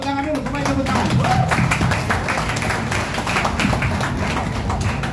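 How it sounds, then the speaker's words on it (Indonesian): An audience at an indoor official event breaks into steady clapping, the dense applause continuing throughout and mixed with crowd noise and a voice near the start. "Tepuk tangan dulu, semuanya tepuk tangan."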